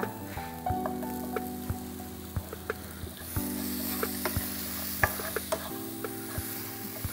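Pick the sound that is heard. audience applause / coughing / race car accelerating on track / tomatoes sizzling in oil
tomatoes sizzling in oil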